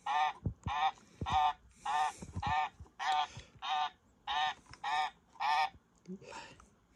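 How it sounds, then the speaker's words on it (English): A singing bird clock plays its recorded mallard duck call, a string of about eleven nasal honking quacks in a steady, evenly spaced rhythm, clear and close with no talking. "number one is the mallard duck"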